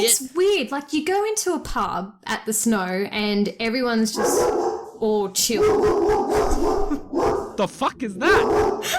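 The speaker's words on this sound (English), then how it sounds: "That is my dog barking." A dog barks repeatedly in sharp, loud bursts close by, the yaps overlapping and interrupting a person talking in a casual conversation.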